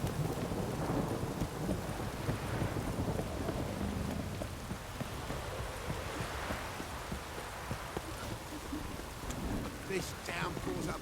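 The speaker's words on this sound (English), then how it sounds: "This downpour's a bastard, it is. If it don't stop raining, my arse will rot off." Heavy rain pours steadily in The Witcher 3 game world, a dense constant hiss with low thunder rumbling underneath throughout, continuous and enveloping with no break.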